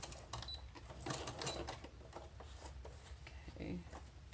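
Journaling cards being stitched on a sewing machine, heard as short quiet bursts of rapid mechanical clatter that start and stop, with a person talking faintly in between.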